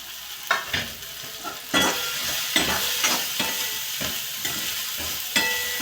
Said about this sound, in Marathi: हे सतत चमच्या ह्याच्यात फिरवत राहायचं आहे, कमी करून.